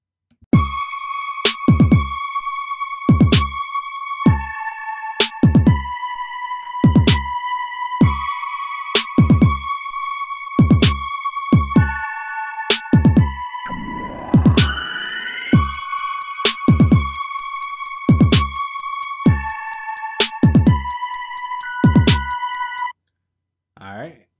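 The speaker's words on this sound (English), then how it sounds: "I'm going to basically let you guys hear what this track sounds like with the plugin disabled." An unmastered electronic music track played straight from the mix with the mastering plugin off: sharp, evenly spaced percussive hits under sustained synth tones, a rising sweep midway, then a brief stop near the end.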